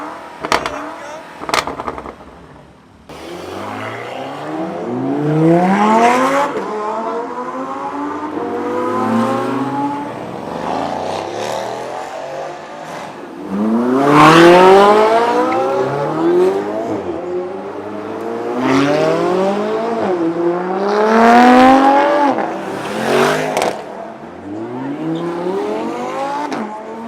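A BMW M5 in track mode with its exhaust opened accelerates hard on a track, revving through repeated rising gear sweeps, loud and close, with excited voices shouting over the engine.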